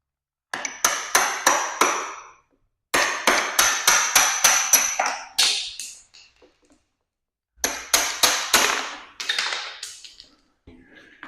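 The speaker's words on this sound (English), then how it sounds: "Now these 2 bolts or pegs should just tap out." Bolts or pegs being tapped out of a Clickgear Tour golf bag kit with a hammer: loud, close, sharp metallic strikes in quick rhythmic bursts of four to eight blows, separated by short pauses, with no talking.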